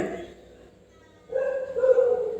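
A dog barks and whimpers in a Thai animated series, a voiced yelp-like sound that starts midway and grows louder, with voices talking around it.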